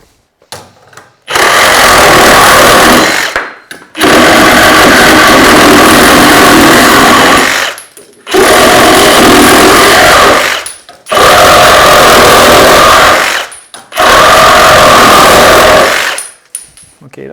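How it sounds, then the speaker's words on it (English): A Milwaukee Sawzall fitted with a carbide-toothed AX blade cuts through steel conduit in five loud, buzzing bursts of several seconds each, separated by short pauses, close by and harsh. "Okay, steel conduit. Let's see if we can cut this."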